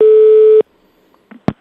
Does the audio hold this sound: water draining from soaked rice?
no